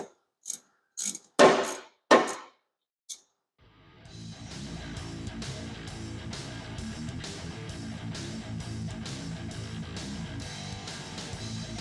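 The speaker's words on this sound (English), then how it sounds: "First, we'll remove this upper bolt." Ratchet wrench clicks in a few sharp bursts loosening the upper bolt on a truck steering shaft, followed by a steady, faster mechanical whirring ratchet run close to the microphone.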